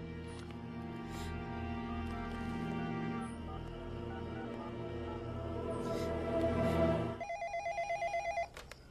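An indoor telephone rings with a steady, sustained electronic tone under a low musical bed, then a short series of rapid pulsing rings near the end, fairly close and moderately loud.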